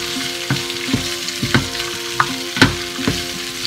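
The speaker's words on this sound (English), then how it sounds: "when you cook these and you roast them on a high heat" Peppers and onions roasting in a hot pan over high heat give a steady loud sizzle, broken by several sharp stirring scrapes and clinks at irregular intervals; no one speaks.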